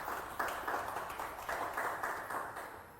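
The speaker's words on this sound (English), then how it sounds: "Let's give them a big round of applause." Audience applause for panelists at a sports-funding panel event, a steady patter of many hands clapping at moderate loudness, continuous for a few seconds with no talk over it.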